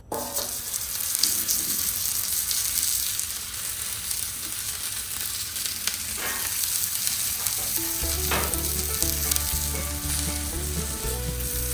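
A frozen burger fries in a little too much oil on a Blackstone griddle, giving a steady, loud, close sizzle and crackle that runs unbroken throughout, with a low tonal hum joining in partway.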